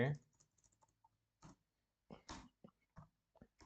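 Text typed on a computer keyboard while writing CSS code, sparse, soft key clicks in short clusters, close and quiet against near silence.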